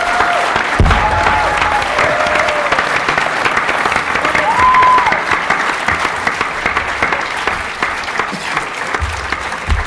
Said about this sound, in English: I hope you all join me in giving them a great round of applause.